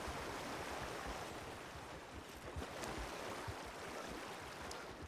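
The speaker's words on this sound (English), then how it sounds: "I couldn't hear you over the rushing water." Steady rushing water in the RedM (Red Dead) game world, a loud, continuous broadband roar like a river or rapids filling the whole scene with no pauses.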